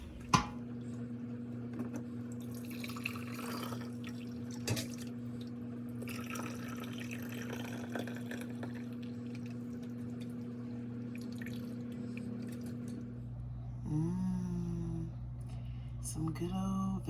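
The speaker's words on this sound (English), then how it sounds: "So now I'm going to finish straining the rest of it" Vegetable stock trickles and drips faintly as it is strained into jars, soft liquid sounds over a steady low hum, with a brief fuller pour near the end.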